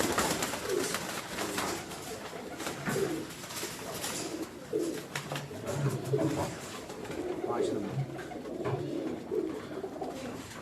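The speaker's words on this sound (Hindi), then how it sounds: "ये कबूतर बेपनाह शानदार कबूतर हैं" Soft, low pigeon coos repeat through a busy, noisy background, with rustling and faint voices mixed in throughout.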